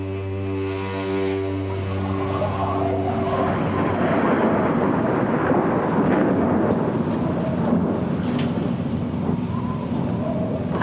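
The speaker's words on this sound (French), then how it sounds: "Ah, c'est à cause du tonnerre." Thunder during a storm rolls in a long, deep, loud rumble that swells and lingers throughout, with a low steady tone fading out early on.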